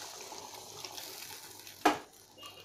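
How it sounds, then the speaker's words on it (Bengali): Bowl of water poured into a pan of chitol fish for a curry, a brief splashing gush that rises sharply and fades after a quiet stretch of soft kitchen noise. "এইবার আমি এতে এক বাটি মতন জল দিয়ে দেব।"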